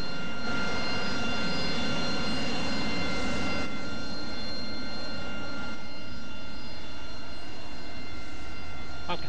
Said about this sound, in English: I can hear another Harrier, but I can't see one.